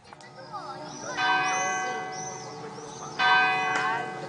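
Church bells ring out in two loud strikes, each leaving a long, shimmering decay that hangs in the air between them.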